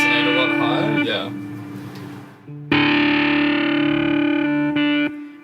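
A Midnight Amplification Devices Starburner guitar effect pedal shaping sustained electric guitar chords into a rich, resonant, distorted tone that fades, then swells back in loud and bright with a ringing high overtone.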